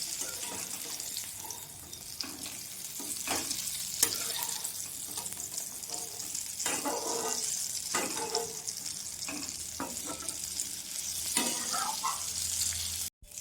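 Chana dal fritters fry in oil with a soft, steady sizzle close by. Occasional louder crackles and scraping stirs break through, and no one speaks.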